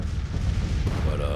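Artillery fire in the Civil War strategy game Grand Tactician, a continuous low rumbling barrage of distant booms rolling under the battle ambience.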